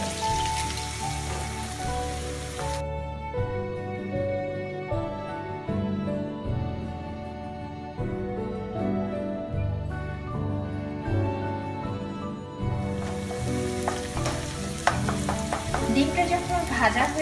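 An egg fries over low heat in a pan with vegetables pushed to the side, for vegetable macaroni; a steady, crackling sizzle runs throughout, with background music playing quietly beneath it.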